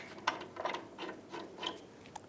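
A bolt being tightened on a tailgate bracket of a 2007-2013 Chevy Silverado, a series of faint close ratcheting clicks in an uneven rhythm, quiet and alone.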